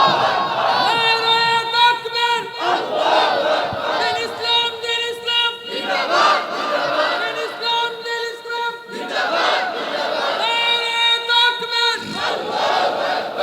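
A large crowd at a Bengali Islamic sermon gathering shouts takbir in loud, repeated call-and-response waves, with a leader's call answered by massed voices.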